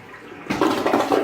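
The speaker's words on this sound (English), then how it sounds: "If you flush it, the water comes straight from the bottom, from the top to the bottom." A cheap toilet in a Holiday Inn hotel bathroom in Nampa flushes, starting abruptly and then rushing steadily at close range, loud and alone.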